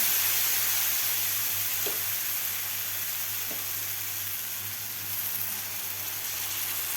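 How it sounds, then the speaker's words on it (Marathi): Black chickpea batter hitting an oiled pan for protein-rich uttapam-style pancakes, a steady bright sizzle that hisses on without a break, with a low hum beneath and a couple of faint clinks. "तर आपण हे बॅटर घालून घेऊया"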